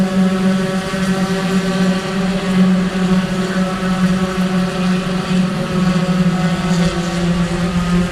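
Race car approaching during a Sebring race: a loud, continuous droning engine note that holds steadily for several seconds, with a faint wash of wind beneath and no voices.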